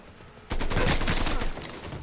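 Gunfire in the video game Mafia 3: a sudden loud burst of rapid shots erupts and sustains for about a second, then tapers into a lower, continuing rumble.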